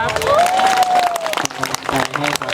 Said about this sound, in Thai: ปรบมือให้ทีมงานหน่อยได้ไหมค